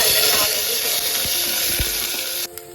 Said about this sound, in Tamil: பூண்டு ஓரளவுக்கு வதங்கிடுச்சு.